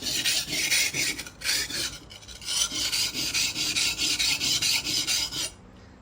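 A knife scrapes back and forth across a coarse 120-grit whetstone in rhythmic, gritty strokes, loud and close, with a short pause partway through.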